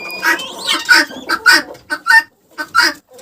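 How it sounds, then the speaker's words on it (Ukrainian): A female guinea fowl gives a run of harsh, repeated calls, rising and falling in uneven bursts with short pauses between, close and loud, in a Ukrainian village. "Як чуєте, це курлича цесарка."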